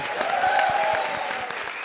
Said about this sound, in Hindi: एक बार जोरदार तालियां हो जाए कृष्णा के लिए